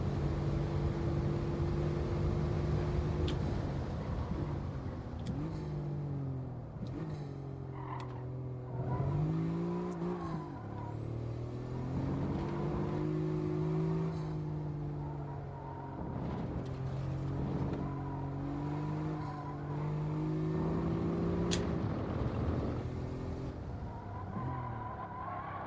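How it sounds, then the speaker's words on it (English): A turbocharged race car in Gran Turismo 7 revs and shifts through corners, engine droning loudly with repeated rises and drops in pitch, occasional tire squeal and turbo flutter between throttle changes, with no voices. "the sound of that turbo flutter though, it's really nice"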